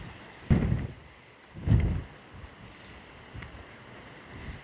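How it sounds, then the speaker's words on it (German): Gusts of wind buffet a handheld microphone in low, booming thumps, two strong bursts and a weaker one over a quiet outdoor background. "jetzt ist hier windig"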